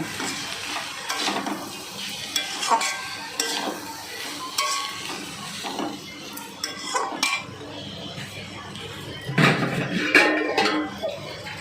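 Cluster beans with cumin and coriander powder are stirred in a cooking pan, a spatula scraping and clinking irregularly against the metal over a soft sizzle.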